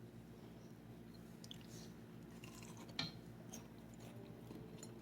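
Someone bites into a crunchy carnivore sandwich, a single close, brief crunch amid faint mouth and kitchen noise, with no talking.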